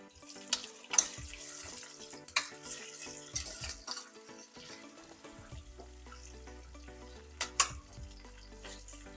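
Ginger and onions fry with curry leaves in hot oil for upma. A quiet sizzle is broken by sharp spatters and pops, alongside clinks of a utensil against the pan, and no one talks.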